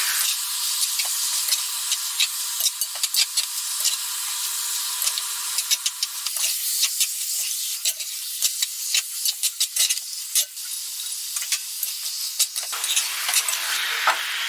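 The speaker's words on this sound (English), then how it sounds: "once that's been stirring and frying for around about 3 minutes" Steady loud sizzling of pork frying in a cast iron pot, with frequent scrapes and clicks of stirring throughout and no talking.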